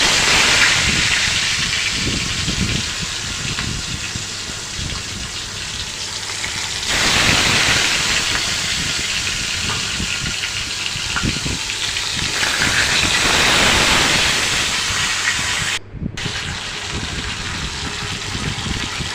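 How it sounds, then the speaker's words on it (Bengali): Pangas fish pieces coated in turmeric and salt fry lightly in a little oil in a wok, giving a loud, steady, hissing sizzle that swells and eases slightly over time, with no talking. "তরকারি রান্নার মাছটা আমি হালকাভাবে ভেজে নিই মাছটা হালকা করে ভেজে নিলেই ভালো লাগে"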